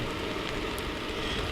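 Steady rain falls during an overnight camp-out with a hammock, a dense, even hiss of drops on surfaces that stays constant throughout with no breaks, and nobody speaking.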